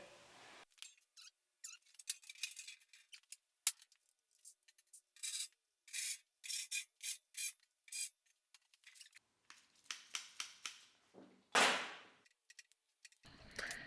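Copper wire being stripped and a new terminal crimped on for the grounding clamp of a MIG welder, a series of close, sharp rasping scrapes and snaps in short irregular bursts with quiet gaps between.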